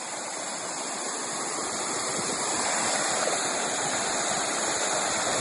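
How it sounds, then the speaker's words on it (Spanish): The Cascada Escondida, a small waterfall in El Bolsón, roars in a steady, dense rush of falling water, close and constant with a slight swell partway through, and no voices. "Chica de la cascada."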